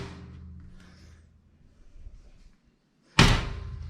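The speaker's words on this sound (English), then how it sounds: "So as I close the doors" Glass fireplace doors swing shut with a single sharp slam near the end, a loud close, solid thud after a stretch of faint handling noise and near silence.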